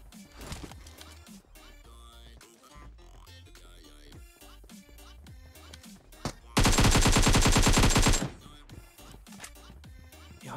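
Gunfire from PUBG Mobile bursts out in a loud, dense, sustained volley of around two seconds, standing out over a busy mix of game sounds and music.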